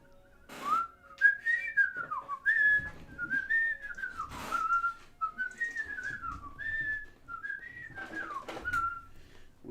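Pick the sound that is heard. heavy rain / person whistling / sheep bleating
person whistling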